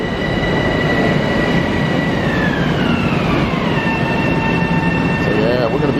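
A train passes an island station platform on the Long Island line near Bellmore, a loud continuous rumble with descending wheel squeal and whine as it goes by.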